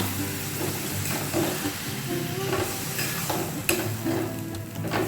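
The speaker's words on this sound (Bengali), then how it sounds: "কড়া ধোয়া, ছাঁকনি ধোয়া জলটা এটা ঢেলে দিচ্ছি।" Rinse water from washing a wok and strainer, left over from making tomato sauce, poured into a hot pan where it hisses and sizzles while a spoon stirs and scrapes, with a few sharp clinks of utensil against metal.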